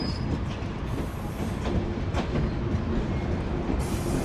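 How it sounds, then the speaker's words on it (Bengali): A train rolls into Jessore Junction in Bangladesh with a steady rumble and rattle of carriages, faint clicking wheels and brief squeals, heard from onboard with no talk. "আমাদের ট্রেন ইতিমধ্যে এন্ট্রি করে গেল যশোর জংশনে"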